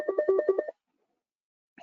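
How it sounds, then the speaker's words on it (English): A telephone ringtone sounds on a webinar call: a quick pattern of bright, repeated electronic tones lasting under a second, followed by near silence and a faint sound at the very end. Nobody speaks. "Sorry, Jerry, I think you got some ringing in the background there."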